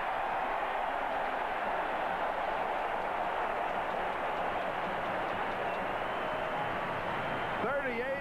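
A stadium crowd at a 1994 Miami at Minnesota football game roars steadily in response to a 38-yard field goal attempt, a dense, continuous wall of cheering that holds at full level throughout.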